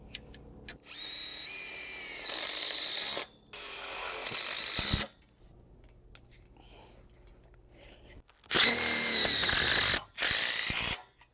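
A power drill drives self-tapping screws into metal channel along a greenhouse bow, with several loud, close bursts of whining motor rising in pitch, separated by quieter pauses of handling noise.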